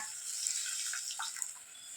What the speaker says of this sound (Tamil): இப்போ அந்த புளி தண்ணியை உள்ளே சேர்த்துக்கோங்க.